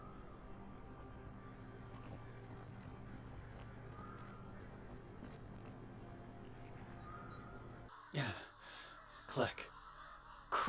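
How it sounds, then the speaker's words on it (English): Crows cawing near finger-like rocks in the horror video game Saint Kotar, a few loud, harsh caws bursting out near the end after a quiet stretch of low ambience with a faint voice. "Klek. Crows. They are everywhere."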